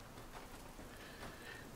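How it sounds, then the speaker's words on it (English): Steady rain pours in the video game Generation Zero, a faint, continuous hiss of falling rain with no voices. "It's raining. It's pouring"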